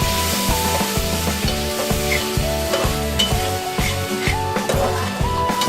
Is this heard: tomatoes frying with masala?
yes